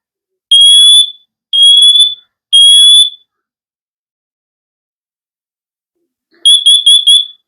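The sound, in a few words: SITERWELL smoke and carbon monoxide detector test alarm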